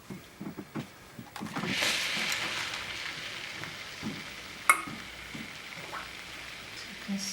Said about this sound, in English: find the other one and iron the inside